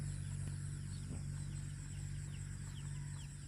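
Chickens cluck and mutter faintly near a field beside farmland, soft scattered calls under a steady hum and broadband background noise, with no talking.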